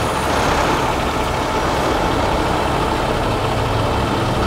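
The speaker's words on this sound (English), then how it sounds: "Tractor and chassis will pull out" A semi tractor with its container chassis pulls forward, its heavy diesel engine running loud and steady throughout at close range, with no speech.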